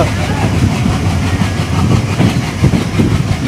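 The Salem Yesvantpur Express, an unreserved passenger train hauled by a WDM diesel locomotive, rumbles along in a steady, loud, close roar with a faint clatter from the coaches.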